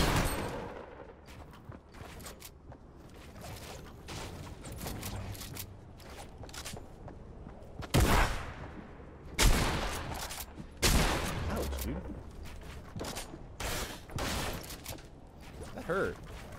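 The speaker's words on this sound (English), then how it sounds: "He's shooting at me." Gunfire in the video game Fortnite comes as scattered single shots and short bursts, with a few loud sharp cracks near the middle, against the hum of gameplay.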